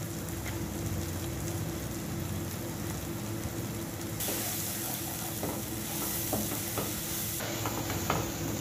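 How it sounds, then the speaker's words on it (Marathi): Spices are stirred into an onion-tomato masala in a pan for egg curry, giving a continuous close hiss and sizzle with light scraping, over low flame with no talking. "हे सर्व मसाले कांदा टोमॅटो मध्ये व्यवस्थित एकत्र करून घेणार आहोत"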